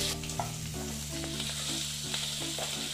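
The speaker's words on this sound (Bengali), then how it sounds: "আমি এই পেঁয়াজের বেরেস্তা আর আদাটা একটু ভেজে নিচ্ছি" Fried onions and ginger frying in a pan for Bengali doi koi, giving a soft continuous sizzle with intermittent stirring, close and fairly quiet.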